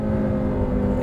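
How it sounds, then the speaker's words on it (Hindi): Honda Civic RS Turbo engine revving, a loud, steady, close-up mechanical roar with strong low-end rumble and no talk over it. "आप इंजन की आवाज़ सुन सकते हैं"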